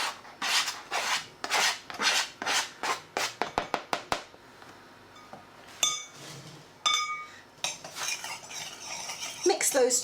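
A spoon clinks and rasps rhythmically against a mixing bowl while salt, shredded suet and flour are mixed, a fast run of bright knocks followed by scattered scrapes, close and clear with no speech.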